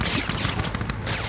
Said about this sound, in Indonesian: Mereka segera merilis tembakan dari posisi paling belakang konvoi